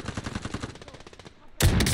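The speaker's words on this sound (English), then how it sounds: "I'm taking fire." Rapid gunfire from a shooter video game, a quick run of loud shots for over a second, then a brief lull before a sharper, louder burst of fire.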